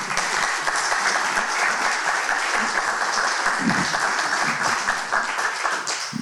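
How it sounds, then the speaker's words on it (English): An audience applauds a panel at a vision health expo, a sustained, dense wash of clapping that stays steady and fairly loud throughout, with no talk over it. "Let's give this panel a big round of applause."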